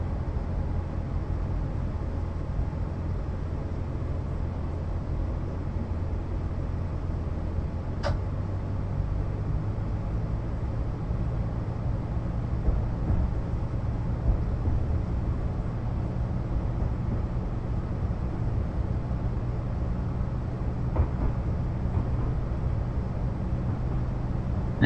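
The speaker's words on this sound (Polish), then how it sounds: "Taki cichutki dzisiaj ten pociąg w porównaniu co do wczoraj." A train in the Train Simulator game on the Lowestoft to Norwich line gives a steady, quiet low rumble that runs unbroken throughout, with no voices.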